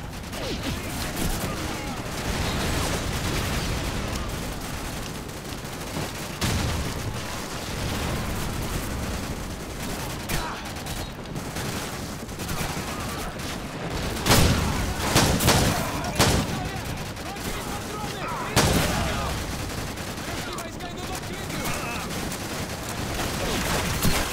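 Dense, loud gunfire from Call of Duty 4: Modern Warfare rattles on without pause, with heavier blasts now and then under the game's battle noise.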